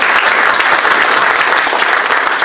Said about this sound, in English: Maybe you can have a clap for them once again.